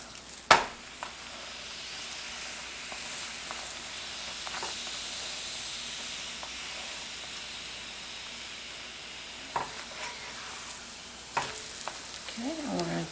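Layered paratha frying in a pan over lowered heat, a faint steady sizzle and hiss with a few soft clicks and taps, low in level with no speech.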